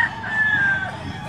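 A rooster crows once, loud and close, in a single drawn-out call at a chicken sale, standing alone with no talk over it.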